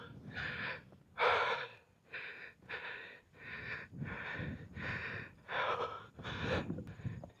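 Heavy panting close to the mic after a solo motorcycle ride on a Suzuki Raider: about ten deep, rasping breaths in a steady in-and-out rhythm, with nothing else over them.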